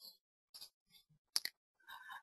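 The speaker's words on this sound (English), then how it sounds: "And then I'll click OK and click close." A few crisp computer mouse clicks, close and quiet, come in a quick cluster between brief bits of soft talk.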